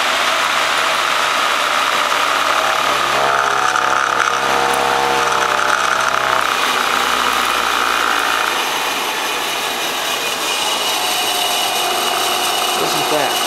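A treadmill motor spins an 8-frame honey extractor at just over 2,000 RPM, giving a steady, loud mechanical whir with a rattling, buzzy texture that eases slightly near the end.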